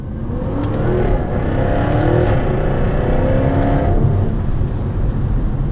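A car engine revs hard and climbs steadily in pitch as it accelerates in a low gear, loud and continuous from close range.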